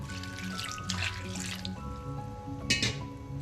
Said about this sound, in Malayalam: ഇതിലേക്ക് കുറച്ച് വെള്ളം ഒഴിച്ചു കൊടുക്കാം.